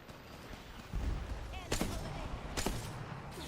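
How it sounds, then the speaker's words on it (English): Charge rifle and other weapons fire in the Apex Legends video game crack in a few sharp bursts, with a thump near the one-second mark and scattered background game sounds. "there's some gunfire going off of that charge rifle"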